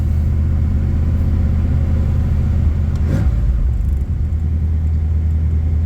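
An old vehicle's engine idles and warms up with a steady, loud low rumble, a brief rise in revs near the middle, then settles back to a constant drone, with no talking.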